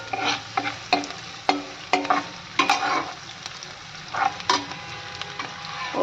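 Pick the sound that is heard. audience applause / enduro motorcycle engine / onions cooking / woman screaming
onions cooking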